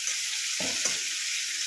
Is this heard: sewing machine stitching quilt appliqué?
no